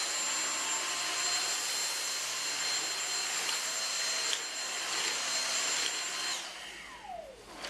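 Dyson DC59 Animal cordless vacuum sucking caraway seeds and lentils off a hard floor, a steady loud whine with small rattles of debris, pitch dropping as the motor winds down near the end.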